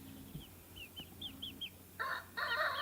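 Bantam chickens and their chicks in a yard, giving a string of short, high peeping calls, then a louder burst of overlapping clucking and squawking near the end, fairly close by.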